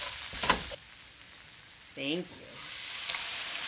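Tomatoes frying and sizzling in a kitchen pan while being stirred, a soft steady crackle under brief bright chatter from a toddler and an adult.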